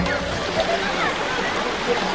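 Natural spring water flows down from the hills at Ain Razat in Salalah, Oman, a steady rushing stream with light splashing that continues evenly throughout.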